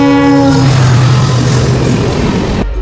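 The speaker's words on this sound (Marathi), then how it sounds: "ट्रेन चालली" A moving passenger train on the Mumbai to Kudal route: a loud horn blast opens, giving way to a heavy rolling rumble of wheels and carriages close by, then cutting off abruptly.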